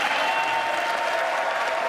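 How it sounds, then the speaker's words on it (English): Sustained applause from the audience at the State of the Union address, broad and steady clapping with no speech over it. "That comment, as you heard, was met with applause on both sides of the aisle"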